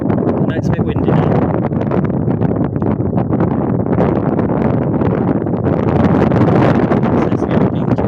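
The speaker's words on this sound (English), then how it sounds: "It's a bit windy now." Strong wind roars and buffets against the microphone in continuous, rumbling gusts, loud and close, with no clear talking, on a beach walk from Fleetwood to Rossall.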